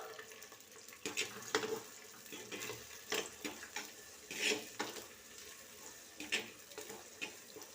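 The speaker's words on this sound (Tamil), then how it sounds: "வெங்காயத்தை சேர்த்துக்கிறேன். வெங்காயத்தை நல்லா வதக்கிக்குவோம்." Onions sautéing in a pan for Tamil-style fish kuzhambu: a faint continuous sizzle with repeated scraping strokes of a spoon, rhythmic and close, with no voices.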